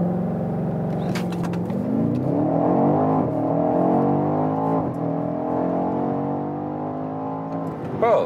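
A 625 hp BMW X5 M or X6 M Competition accelerating hard, its engine note climbing steadily through the gears with a loud, continuous rising growl and brief shift dips, heard close up from inside the car.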